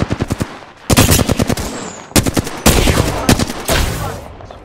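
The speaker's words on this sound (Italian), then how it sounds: "mi ha appena sparato!" Apex Legends gunfire: rapid automatic bursts of loud, sharp shots in quick rhythmic volleys, several strings of fire back to back, close and dominant.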